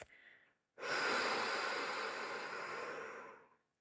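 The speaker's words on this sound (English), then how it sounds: "Now breathe out through your mouth" A slow, deliberate exhale through the mouth during a calming breathing exercise, a soft steady airy rush lasting about three seconds after a short faint breath in, close and alone.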